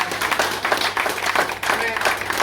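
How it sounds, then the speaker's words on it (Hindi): Applause from the crowd at an Ambedkar Jayanti gathering in an SC-ST association office, a dense steady patter of clapping lasting the whole moment with voices mixed in. "जोरदार तालियां"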